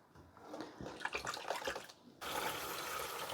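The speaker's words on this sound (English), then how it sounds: "So I'm just going to stick these in this jar. Add my water." Water is poured into a jar holding plant cuttings. Faint handling noises come first, then a steady, close pouring stream begins suddenly and continues to the end.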